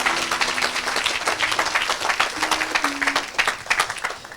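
A church congregation claps and cheers for Jesus during a lively French-language sermon, producing steady, dense applause with bursts of crowd noise throughout.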